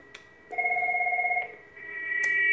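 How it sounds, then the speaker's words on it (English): A Cisco IP desk phone on a FreePBX Asterisk system auto-answers an intercom page with a steady electronic tone of about a second, then a second softer tone, with faint clicks around them and no talk. "Instantly, you see how that phone picked up automatically?"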